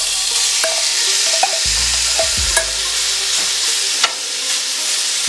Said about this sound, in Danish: Nu skal den steges af på panden i lidt olie.